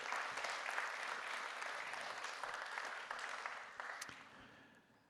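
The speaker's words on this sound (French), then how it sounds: "Je vous laisse reprendre vos places et on vous applaudit." Broad audience applause at a hydrogen industry conference, full and continuous at first, then gradually thinning and fading out over several seconds.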